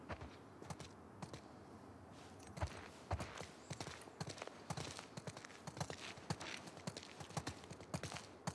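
Horse hooves clip-clop at a steady walking rhythm in The Last of Us Part II, a string of crisp, distinct hoof strikes close by and fairly faint overall, with no talk over them.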